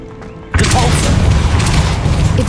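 Depulso spell cast in the video game Hogwarts Legacy, a sudden loud booming blast that bursts in after a quiet moment and holds as a sustained, roaring rumble, with speech faintly mixed in.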